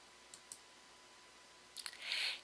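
A computer mouse clicks on a sign-up button, giving a couple of sharp, faint double clicks close by in an otherwise quiet room, followed by a brief rustling swish.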